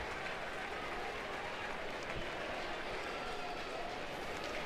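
A large crowd at a Baton Rouge Regional college baseball game between Tulane and LSU applauds and cheers in a steady, dense wash throughout, with no clear talk over it.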